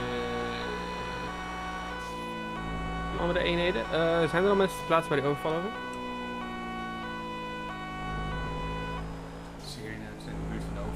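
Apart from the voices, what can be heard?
police siren in video game GTA 5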